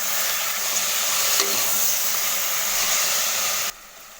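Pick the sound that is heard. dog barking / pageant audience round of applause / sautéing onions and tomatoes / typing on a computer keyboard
sautéing onions and tomatoes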